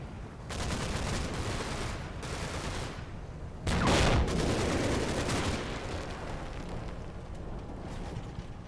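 Combat Mission: Battle for Normandy battle scene with bursts of rapid gunfire and a loud explosion a few seconds in, followed by sustained crackling fire and rumbling that fades toward the end.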